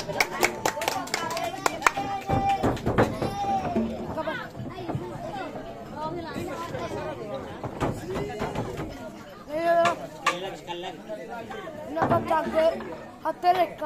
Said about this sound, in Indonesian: Ya, kasih tepuk tangan untuk para sekere kita.